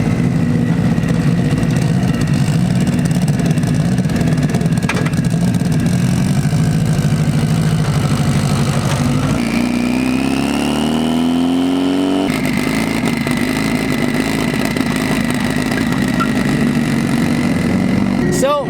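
A stock-looking Mitsubishi Evo with a tiny turbo idles steadily and close by, its low rumble holding throughout with a brief pitch rise around the middle, and voices faintly in the background.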